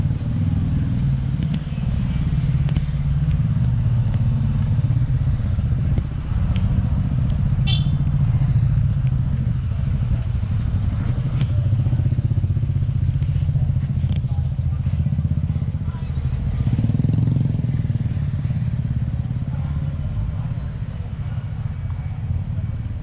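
A motorcycle being ridden, its engine giving a steady low rumble for over twenty seconds with faint road clatter, while voices talk intermittently over it.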